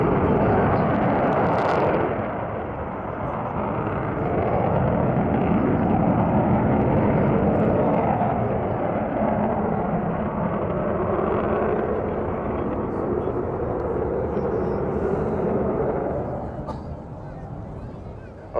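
A large Avro Vulcan XH558 delta-wing jet bomber flies past at Cosford, its broad, steady engine roar filling the air for most of the stretch before fading slightly near the end.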